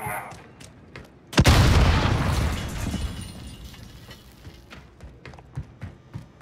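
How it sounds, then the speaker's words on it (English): A grenade blast in the shooter game Call of Duty Modern Warfare, a single loud boom with a long rumbling decay, followed by scattered distant gunshots and footsteps. "Throwing grenade!"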